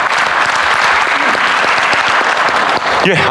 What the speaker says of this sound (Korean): 다시 한번 정은경 장관님께 감사의 박수 한번 부탁드리겠습니다.